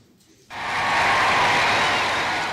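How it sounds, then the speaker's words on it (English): Ecstatic crowds celebrating the liberation of Europe at the end of the Second World War, a broad roar of cheering and applause that swells in abruptly after a quiet half-second and holds steady and loud throughout. "Ecstatic crowds cheer at the liberation of Europe"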